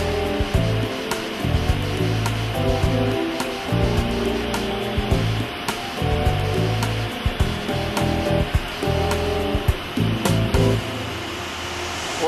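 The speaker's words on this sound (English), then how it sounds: "What you see here are 26 CNC machines, all acquired new since December 2004." Rows of CNC machines running on a dental implant factory's machine shop floor, a loud, dense mechanical roar with hissing coolant-like wash and irregular clunks and pulses, continuous throughout with no talk.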